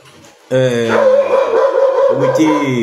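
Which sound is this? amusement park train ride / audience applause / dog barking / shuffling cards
dog barking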